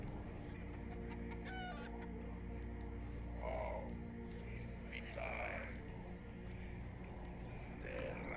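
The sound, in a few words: summoned chickens clucking in video game Arx Fatalis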